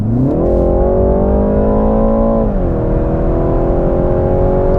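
A BMW 330i sedan with a 255-horsepower turbocharged engine accelerating hard on the road, a loud, steady rising engine drone heard from inside, one gear shift dropping the pitch, no talk.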